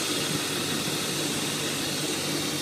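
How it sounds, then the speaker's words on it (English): A BMW E39 5-Series engine idles after a belt tensioner replacement, with a smooth, steady hum that holds at one level from start to finish, with no other sounds. "but now we don't hear anything. Now we hear a nice engine."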